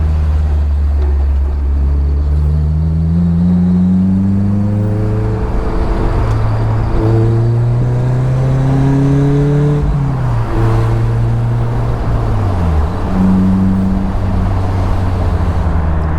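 Car cruising with the top down, its engine rising and falling through several gear changes with a steady roar of wind and road noise, loud and close throughout.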